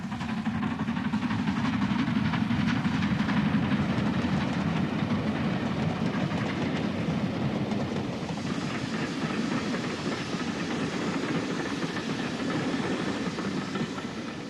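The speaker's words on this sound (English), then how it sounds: "Its work completed, this Fairburn tank coasts down to Bradford Exchange" A Fairburn tank steam locomotive coasts down toward Bradford Exchange in the 1960s Pennine area. A steady, close rumble of rolling wheels and rail clatter carries a soft hiss of steam, with no voices.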